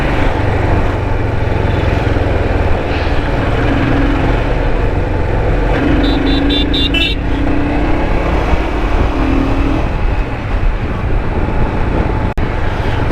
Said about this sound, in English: sounds very nice with one cylinder, big cylinder, just going do do do do do